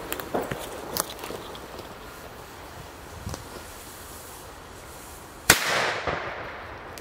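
Scattered pops and crackles go off at a distance, then one sharp loud bang is followed by a hissing fizz that fades.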